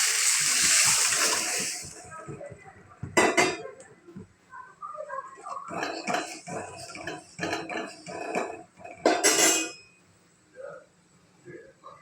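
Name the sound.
tomato mixture poured into rasam pot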